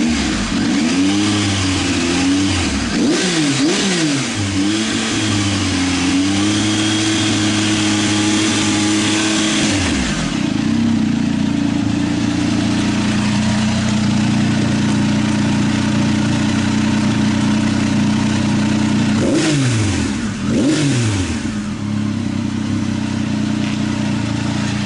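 A 2019 Triumph Tiger 800 XRT fitted with a Fuel Diablo carbon muffler idles steadily, with two separate sets of quick throttle blips that rev sharply up and fall back, close and loud.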